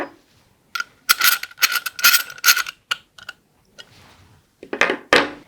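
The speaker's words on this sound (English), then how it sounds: "Then we are going to fasten the screw." Screw on a tension flange clamp being tightened during robot mounting: close, crisp ratcheting clicks in short bursts with brief pauses between strokes.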